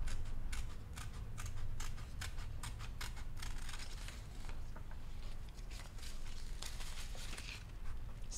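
Scissors cut through a paper image for collage art, making a steady run of soft, close snipping and crinkling that stays quiet and continuous with no voices.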